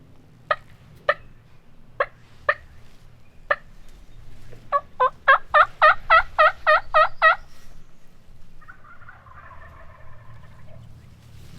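Wild turkeys gobble from nearby during a late-morning hunt in Kentucky: a few spaced calls, then a rapid run of loud gobbles, trailing off into softer, distant clucking.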